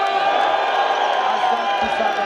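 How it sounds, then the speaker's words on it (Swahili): A crowd cheers and ululates for a chairman, with steady massed voices, whoops and high trilling calls that run loudly and unbroken for about two seconds. "wapi shangwe na vigeregere ya chairman."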